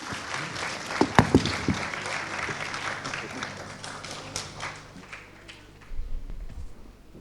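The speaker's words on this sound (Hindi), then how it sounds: "चलिए जोरदार तालियां फिर से एक बार संजय निरुपम जी के लिए।" Audience applause at a talk with a Congress leader, scattered clapping with a few louder claps early on, thinning and fading toward the end.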